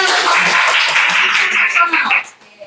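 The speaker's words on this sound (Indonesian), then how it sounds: "Beri tepuk tangan" A short burst of clapping from a class after a group presentation, dense and steady for about two seconds before quickly dying away, with a few voices mixed in.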